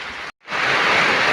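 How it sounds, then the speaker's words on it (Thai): Heavy rain pours down in a dense, steady hiss, briefly cut off by a split-second gap before resuming loud and continuous. "เห็นว่าฝนตกค่ะ"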